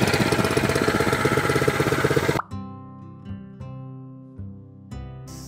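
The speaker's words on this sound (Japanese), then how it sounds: "エンジンがかかったらこちらのチョークを元に戻して運転に戻してください。" Small garden tiller engine running loudly at first, then dropping abruptly to a steadier idle with occasional thumps and clanks, close by.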